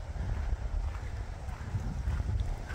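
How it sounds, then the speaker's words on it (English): Cold wind blows through trees in an outdoor area of Albuquerque, a steady low rushing roar with gusty buffeting against the microphone and no clear voices. "You can see the wind blowing there."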